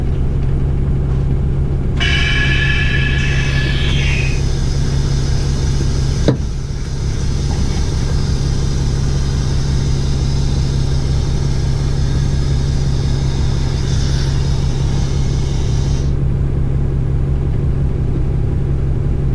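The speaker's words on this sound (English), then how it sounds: "that's now the leveling valve making all that noise" Air hissing from the levelling valve of a Dennis Dart bus as its suspension is raised, a broad steady hiss over a low idling engine rumble, with a brief thump partway through.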